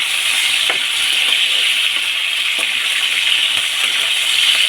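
Potatoes dropped into a pan of frying meat give a continuous loud sizzle, punctuated by a few sharp clinks and splashes as pieces land and get stirred, with no talking.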